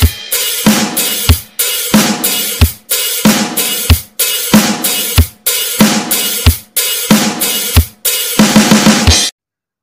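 A drum kit plays a repeating rock pattern from a song, with crisp snare and cymbal hits over punchy kick drums in tight bars, loud and close, then stops abruptly.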